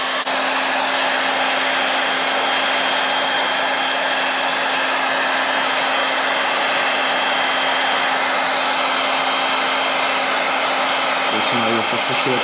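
A hair dryer or heat gun blows steadily while drying protective PPF film on a KTM motorcycle, a loud, constant whirring hiss with a fixed hum that runs unbroken before a brief change at the end.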